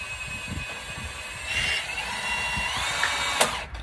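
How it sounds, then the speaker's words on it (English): A Sawzall reciprocating saw cuts through wood at close range with a continuous buzzing whine and uneven rasping strokes, rising in intensity midway and ending with a sharp clack. "Let me get the sawzall and cut out that wood over there."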